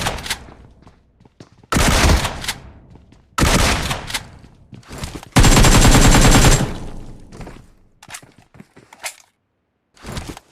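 Automatic rifle and shotgun fire in a battle royale video game, with loud bursts of rapid shots in several separate volleys, one sustained stretch, and scattered single shots between quieter gaps.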